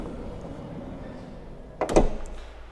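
The sliding side door of an Auto-Sleeper Symbol Plus camper van rolls open in one quick, fairly loud clunk and slide, heard close up after a stretch of outdoor background noise.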